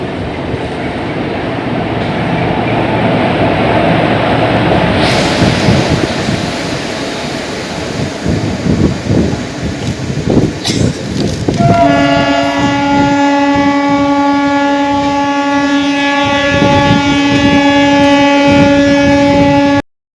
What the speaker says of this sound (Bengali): এই হলো আজকে আমাদের 68001 সাঁতরাগাছি ঝাড়গ্রাম মেমু।